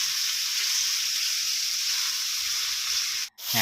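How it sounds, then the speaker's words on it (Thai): Pork cartilage stir-fries with light soy sauce in a hot pan, an even, dense, close sizzle that holds steady before cutting out abruptly near the end. "แล้วก็ผัดนะครับ ผัดให้ ผัดให้หอมเหลืองเลยนะครับเพื่อน"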